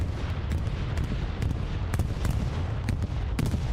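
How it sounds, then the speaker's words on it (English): Bombing run in a large online war game match, with distant explosions and scattered gunfire crackling steadily over a low rumbling battlefield, fairly faint throughout. "Bombing run coming in."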